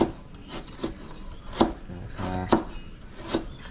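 A knife chops onions on a board, with a handful of close, sharp hits at an uneven pace and a brief rubbing scrape between strikes.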